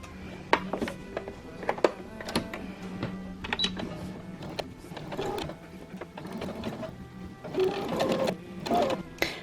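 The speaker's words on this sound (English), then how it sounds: "I'm going to do a straight stitch" A sewing machine runs a straight stitch on bra fabric at 2.5 length in short bursts of rapid mechanical chatter, stopping and starting at close range with clicks between runs.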